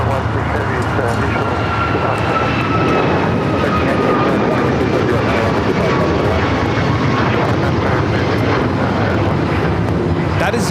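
A United Airlines Boeing 737 MAX 9 takes off from LAX, its jet engines giving a loud, steady roar that stays strong throughout, with people talking over it.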